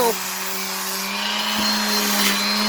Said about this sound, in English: I don't want to ruin the sander.